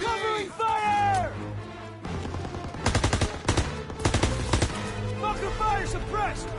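Machine gun bursts in the Call of Duty WW2 Battle of the Bulge campaign hammer out in rapid clusters, loud and near, as shouting voices overlap the firing.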